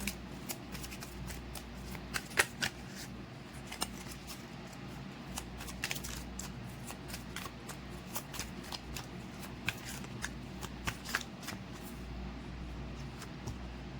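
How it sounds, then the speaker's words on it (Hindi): A deck of tarot cards is shuffled close by in a quiet room, giving soft, repeated riffling and flicking clicks at an uneven pace throughout. "Till I shuffle the cards please."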